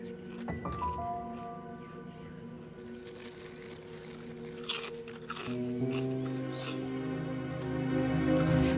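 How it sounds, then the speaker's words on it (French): Chips are crunched on board an airplane before takeoff, a few sharp crisp bites over a steady low cabin drone and tonal hum, with speech nearby. "Avec le bruit que tu fais en croquant, je suis sûre que le pilote t'entend."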